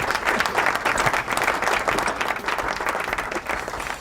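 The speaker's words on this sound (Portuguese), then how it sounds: "Palmas pra ele, plateia virtual." Virtual audience applause greeting the president of an organ donation association during an online event, a steady dense clapping that fills the whole stretch at even, fairly loud level with no talk over it.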